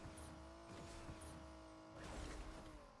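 A car driving in the Fortnite video game, its engine humming with shifting tones, a couple of sharp squeals, then a louder rush near the end.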